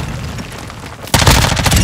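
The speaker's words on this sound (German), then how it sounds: "Werfe Blendgranate." A flashbang grenade goes off in Call of Duty: Modern Warfare 2 multiplayer: a quiet murmur of ambience, then one abrupt, loud blast that rings and crackles for almost a second.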